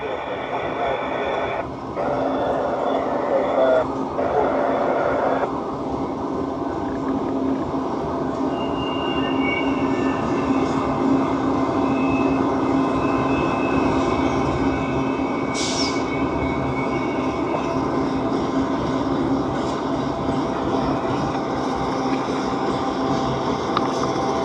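Lake Michigan & Indiana Railroad train with several locomotives passing close by at a cliffside spot, a steady loud rumble of rail cars with brief squealing wheels, continuous throughout.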